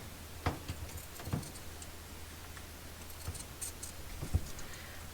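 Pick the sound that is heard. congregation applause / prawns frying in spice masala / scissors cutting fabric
scissors cutting fabric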